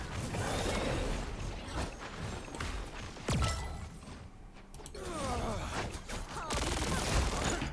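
A weapon reload in a video game comes through as a run of sharp mechanical clicks, ratcheting snaps and metallic clacks over a few seconds, spread among brief softer gaps and mixed with faint game noise.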